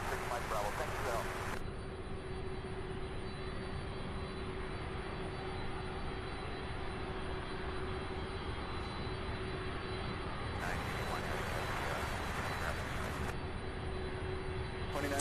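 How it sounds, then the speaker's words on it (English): A jet airplane at Louisville International Airport rumbles at a distance in a steady broadband roar, while a radio voice and people talk over it. "Beautiful aircraft. This one here is just 9 years old"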